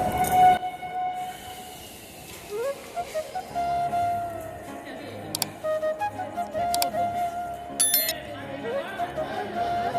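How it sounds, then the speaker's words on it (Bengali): A train at Gangpur railway station rumbles and clanks nearby with squeals and tones over the station bustle, while people chatter and talk in the background. "এই যে আমরা গাংপুর স্টেশনে নামলাম"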